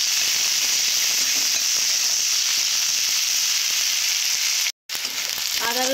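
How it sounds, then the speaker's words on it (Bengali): Onion, garlic and ginger sizzle steadily in hot oil as they are sautéed, a continuous dense frying hiss broken by a brief dropout near the end, with no talking. "আদা রসুন পেঁয়াজ ভালো করে কষে নিয়েছি"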